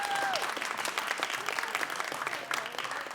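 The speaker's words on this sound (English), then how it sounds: "can we give one more round of applause to our two student performers?" An audience applauds two student performers at a Brooklyn College event, a steady, dense clapping that fills the room at moderate level, with a brief whistle near the start.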